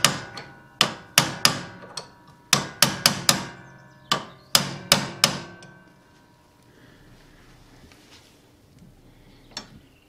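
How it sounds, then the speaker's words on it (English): About a dozen sharp metallic hammer blows ring out on a steering clamp bolt of a Countax C300 ride-on mower, struck in quick uneven bursts over the first six seconds, then quiet with one last faint tap. "it doesn't really sit easily with me hitting bolts like this"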